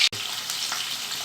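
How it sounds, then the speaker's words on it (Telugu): Onion, green chillies and curry leaves frying in hot oil for a bitter gourd fry, a steady close sizzle with a brief cut near the start. "పచ్చిమిరపకాయలు, ఇదిగోండి ఒక ఉల్లిపాయ, ఇది కొంచెం బ్రౌన్గా వేగాలండి"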